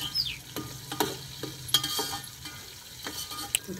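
Chopped onions sizzle in a pan for a vegetable khichdi, a soft steady hiss broken by several sharp spatula scrapes and taps as they are stirred, fairly quiet and close.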